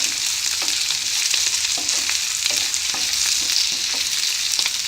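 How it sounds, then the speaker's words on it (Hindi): Vegetables for sooji upma fry steadily in a pan, a close, continuous sizzle broken by scraping stirs at an even pace, with no voices. "सब्जियों को बहुत ज़्यादा फ्राई नहीं करना है।"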